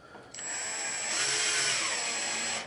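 A power drill set on a light clutch drives screws during a Printrbot Simple 3D printer Z lead screw upgrade, whirring steadily and fairly quietly after a brief start, alone without talk.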